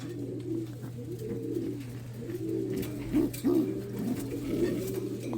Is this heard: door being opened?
no